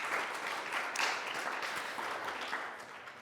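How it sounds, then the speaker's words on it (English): A seated audience at an energy conference panel claps for the panelists, a dense, steady wash of applause that holds for about three seconds and then begins to fade. "A round of applause for all of our panelists for making it here."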